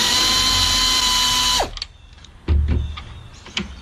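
A power tool whirs loud and steady on a nut of a Chrysler Concorde front strut, then spins down and stops, followed by a few clanks and a short metallic knock.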